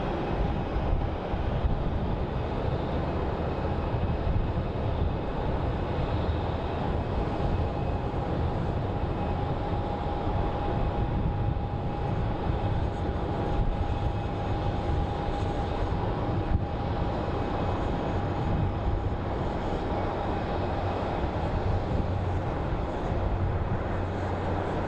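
A small airplane landing at Phoenix Sky Harbor International Airport, heard as a steady distant engine drone with a sustained tonal hum over constant wind-like rumble, no voices.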